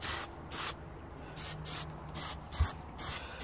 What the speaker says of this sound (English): I'm just using the old plasti dip, the old white stuff there, and I've just given it a couple of nice coats there